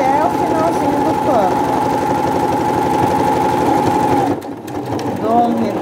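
A sewing machine runs steadily, stitching the hem of a cotton dish towel, its motor whirring in a fast, even rhythm for about four seconds before it stops and a quieter pause follows.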